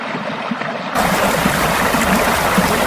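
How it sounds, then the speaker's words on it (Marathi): Flowing water in an animated horror story sets in abruptly about a second in and becomes a loud, steady rushing wash that continues to the end, with no speech. "त्या पाण्याचा आवाज का एवढा भयानक वाटतोय?"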